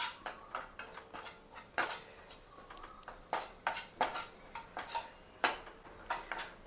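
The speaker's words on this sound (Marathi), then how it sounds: "ह्या तेलामध्ये चांगलं खरपूस असं भाजून घ्यायचं ते" Gram flour roasting in oil is stirred in a pan, with a spatula scraping and knocking against the metal in quick, repeated strokes over a quiet background.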